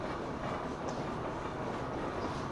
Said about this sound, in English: As it moved down the grade, the train picked up speed, reaching a top speed of 65 miles per hour.